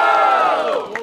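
A live rap battle crowd in Brazil erupts in loud, sustained cheering and shouting for a rapper, a close, roaring wall of voices that tails off slightly at the end.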